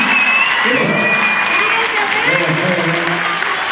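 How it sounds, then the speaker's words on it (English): An audience at a Dragon Con convention panel applauds and cheers in a hall, a broad steady wash of clapping with voices mixed in beneath it. "Big round of applause for the crew, guys."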